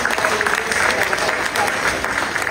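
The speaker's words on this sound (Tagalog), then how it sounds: "Sa malakas na palakpak para sa ating Panginoon." Church congregation at a praise and worship service claps loudly and continuously, dense steady applause filling the room without pause.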